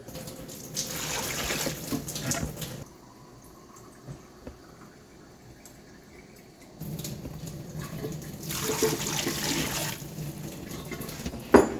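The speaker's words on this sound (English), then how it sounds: "all we have to do is top this off with water" Water gushes from a tap into a jar in two loud bursts, separated by a quieter pause, with rushing and splashing close by.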